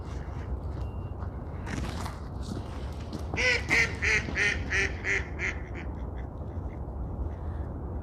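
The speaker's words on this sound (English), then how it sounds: "These ducks are even slipping in the ice." Ducks slip on the ice on snowy Boston Common and let out a close run of about half a dozen loud, nasal quacks in quick succession, over a background of city ambience.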